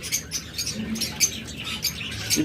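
A big-sized breeding pair of lutino cockatiels, the hen pale-bodied with extra yellow, gives off bright chirps and small squawks amid rustling and fluttering, close and fairly steady over busy background noise.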